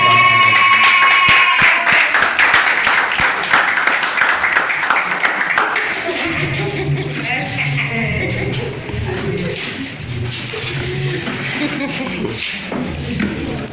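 A church congregation applauding during a Sunday service, dense clapping up close that later blends into singing and voices.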